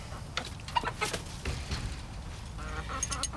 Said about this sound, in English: Get out of there, chicken. Come on.